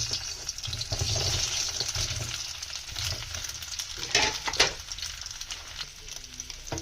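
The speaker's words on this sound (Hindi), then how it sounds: "अब मैंने एक कढ़ाई में ऑयल डाला है। ऑयल हल्का गर्म हो चुका है। उसके बाद हम इसमें बॉइल्ड आलू डालेंगे।" Boiled potatoes go into lightly heated oil in a kadai, giving a close, steady sizzle with some stirring scrapes and a few louder splashy bursts near the end.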